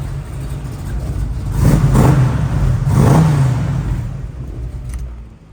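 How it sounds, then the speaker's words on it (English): A 1969 Chevrolet Camaro engine, heard close and loud, idles and then swells through two rising revs before settling back down and cutting off toward the end, with no voices over it. "give it one more rev and then give it, turn it off so you can hear it"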